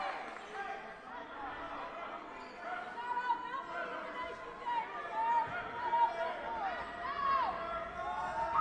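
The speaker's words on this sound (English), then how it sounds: "You can hear the home crowd going loud, trying to mess him up." Home basketball crowd chatter and noise building during a playoff free throw, a busy murmur of many voices with scattered shouts, heard under close commentary.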